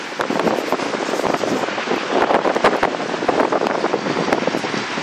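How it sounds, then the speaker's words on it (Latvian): Strong coastal wind buffeting the microphone, a loud rushing roar with irregular gusty bursts throughout, and no voices. "kad vējš pieņem spēkā"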